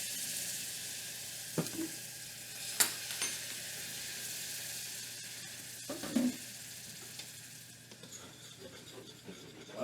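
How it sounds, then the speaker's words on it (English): Falafel batter being stirred with water and apple cider vinegar on a kitchen counter, a faint, steady wet hiss broken by a few soft knocks and taps of the spoon. "Go ahead, stir that around."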